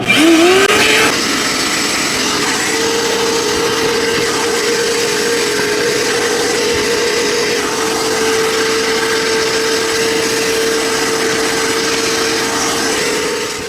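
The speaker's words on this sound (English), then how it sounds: "the last step is to take my shop vac and just kind of vacuum around everything" A shop vacuum starts up and runs continuously with a loud, steady whine and roar, close by, cleaning a dryer vent, with no talking.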